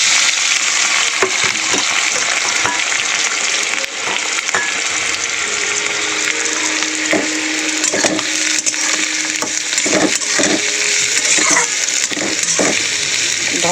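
A whole batch of thinly sliced onions frying in hot oil in a wok with reddened garam masala, a loud, steady crackling hiss with scattered clatters and scrapes of stirring close by.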